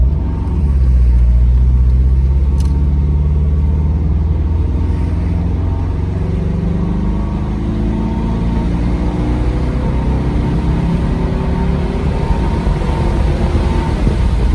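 A Mercedes SL500 cruises on the road with a steady, loud low engine rumble and road noise throughout, with no talking.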